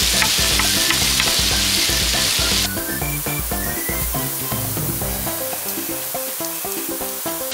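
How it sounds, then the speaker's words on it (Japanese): Tomatoes are crushed and stir-fried in a pan at a camp site: a dense, close sizzle of frying with repeated scraping and stirring strokes, loud at first and then slightly softer but steady to the end. "トマトは潰しながら炒めます。"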